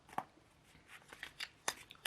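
A tarot card deck being shuffled by hand, giving soft irregular snaps and riffling clicks, close and fairly quiet, with no speech.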